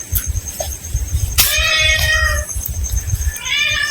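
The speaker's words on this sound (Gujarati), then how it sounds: "તો અહીંયા મહારાજે પણ એક કાળી બિલાડી રાખેલી છે" A black cat kept at a mountain ashram in the Girnar foothills meows several times, with drawn-out, wavering cries standing clearly over a low rumbling background and faint murmuring nearby.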